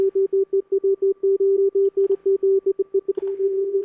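Simple synth sine tone treated with reverb and EQ, keyed in quick irregular beeps like Morse code, with soft reverberant tails between pulses and a brief smeared stretch near the end.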